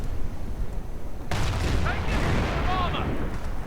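A mortar half-track blows up in a World War II strategy game. The sudden blast erupts after a quieter stretch of battle noise, followed by a loud, rumbling roar with whistling and crackling debris.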